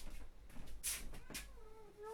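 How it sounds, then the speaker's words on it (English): A cat gives a couple of faint meows at low volume, with the last call rising and trailing off near the end. "Oh, it's a cat. It's a little kitty cat."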